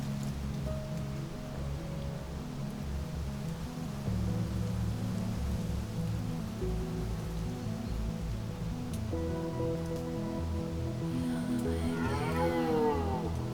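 Red deer stags roar across foggy hills on a still night, distant and drawn-out bellows under a steady hiss of wind or light rain, with one rising, wavering call near the end.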